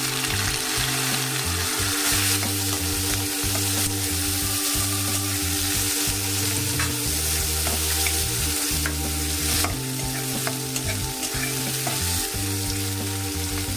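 Three medium onions sizzle and fry in hot oil for a Bengali dry fish curry, a steady, close, continuous crackle lasting throughout, with a tonal rhythmic layer underneath.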